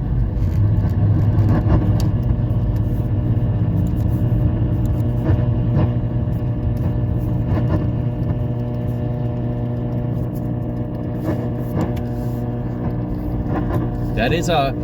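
A car rolls slowly through a drive-through near antennas, its engine a steady close low rumble running the whole time with faint clicks and rattles over it.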